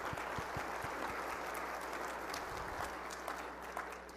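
Audience at a school district address breakfast applauding, a dense steady round of clapping from a crowd in a large room, continuous throughout with no talk over it.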